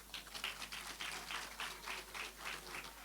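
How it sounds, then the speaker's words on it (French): Applause at a ceremony in Dakar for the staff of the city's human resources department, a dense, even patter of many hands clapping that holds steady from start to finish at moderate distance. "Merci de les applaudir"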